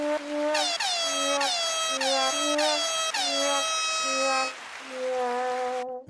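Air horn sound effect dropped into a poker game stream: a series of loud, blaring honks in quick rhythmic blasts, then one longer final blast, heard alone without talk.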